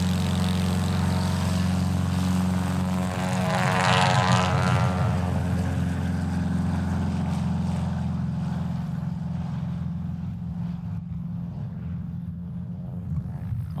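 A small propeller airplane, a backcountry Cessna or Aviat Husky at a short-landing contest, taxis nearby with a steady droning engine hum and propeller buzz that rises briefly, then slowly fades.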